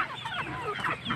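Backyard chickens clucking close by on a small farm, a quick burst of several soft clucks and chatter, with no talking.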